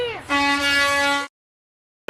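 A car horn blares in a single sustained, loud honk lasting about a second, alone and close, followed by silence and a brief clipped burst at the very end, as in a Domino's pizza advertisement.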